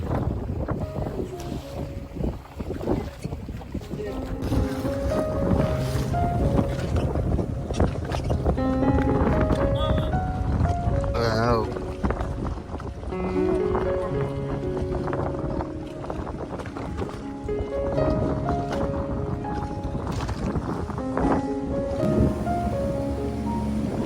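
A boat moving across rough sea off Lakshadweep, with steady wind buffeting the microphone and wave wash running continuously throughout; faint tonal sounds sit in the background.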